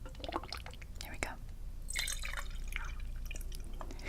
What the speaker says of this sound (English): release the water into the pot. Well, the tea. It's tea now, not water.